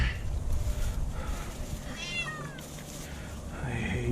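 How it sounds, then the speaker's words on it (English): Barn cats meowing on a farm during cold-weather lambing, with one clear, drawn-out meow in the middle over low rumbling and handling noise, and a fainter mew toward the end. "Barn cats."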